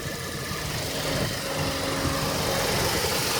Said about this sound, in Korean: 엔진 소리는 굉장히 조용합니다.